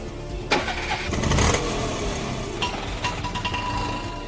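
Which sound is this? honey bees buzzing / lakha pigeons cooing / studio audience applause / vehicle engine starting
vehicle engine starting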